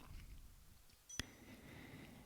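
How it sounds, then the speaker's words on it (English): A timer lets out a single short, sharp beep, distinct against a quiet, faint background. "that's my timer to remind me to say I've been going on too long."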